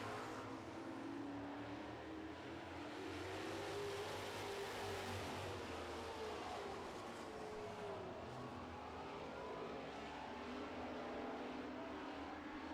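Super trucks race around a track in a feature event, their engines blending into a continuous distant roar with rising and falling pitch as the field circles.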